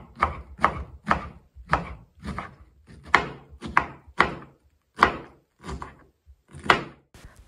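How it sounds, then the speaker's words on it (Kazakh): A knife finely chops cabbage into small squares on a board, with about a dozen firm, close, evenly spaced thunks and brief pauses between them. No one talks. "40 қабатты да ұсақтап 4 бұрышты етіп тураймыз"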